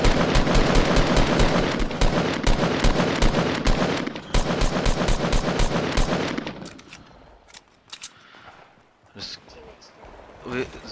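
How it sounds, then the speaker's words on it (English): Automatic gunfire in the Fortnite video game rattles in long rapid bursts for several seconds, then thins to scattered sharper shots as a player talks over the action. "They're shooting in the distance."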